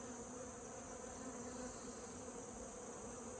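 Honey bees drone in a dense, continuous buzz from an open hive being inspected, the steady swarm sound close and unbroken with no voices.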